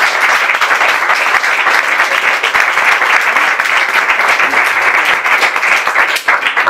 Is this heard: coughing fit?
no